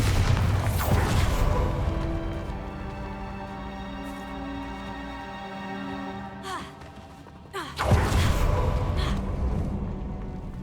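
The Bombarda explosion spell in Hogwarts Legacy bursts twice, a heavy blast at the start and another near the end, with a sustained musical tone ringing between them.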